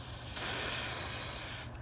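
A single continuous hiss of an aerosol spray can, starting just after a brief pause and cutting off abruptly near the end.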